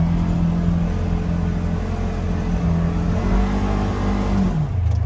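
A 2021 Polaris Ranger 1000XP Northstar UTV engine drones steadily as the machine drives off-road in two-wheel drive, a loud, close, continuous rumble with slight pitch shifts, easing off near the end.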